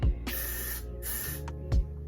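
Two long hissing bursts of hair spray close up, then two short puffs, with no talking.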